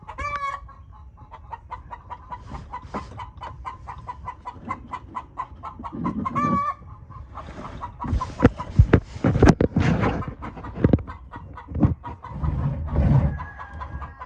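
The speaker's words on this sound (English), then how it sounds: "can hear the chickens going crazy" Chickens cluck and squawk excitedly in a busy, continuous chorus, growing louder and more agitated toward the end, with some clattering noise mixed in.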